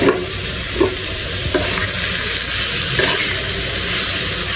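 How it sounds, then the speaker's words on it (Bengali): Potatoes are stirred and fried in hot oil, making a loud, continuous sizzle with occasional soft scrapes of a spatula against the pan. No one speaks. "2 মিনিট কষিয়ে নিব আলু"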